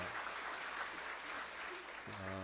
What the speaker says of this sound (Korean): 한번 박수 한번 좀 여러분들 보내주시면 감사하겠습니다